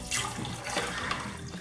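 Tap water runs steadily from a kitchen faucet while chickpeas are washed, a continuous close splashing stream with no talking.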